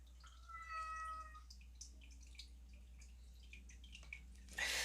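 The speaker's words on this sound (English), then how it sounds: "my cat's in heat, so they'll be meowing" A cat in heat gives a drawn-out, wavering meow, followed by quieter scattered ticks and a brief soft rush at the end.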